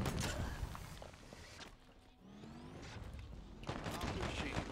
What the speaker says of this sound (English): Hearing gunfire. Well, that sounds real close.